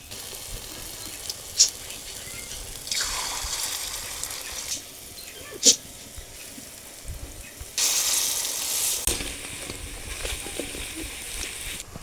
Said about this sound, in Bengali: চপটা কড়াইতে দিয়ে দিই।